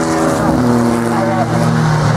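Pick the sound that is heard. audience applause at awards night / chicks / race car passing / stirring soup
race car passing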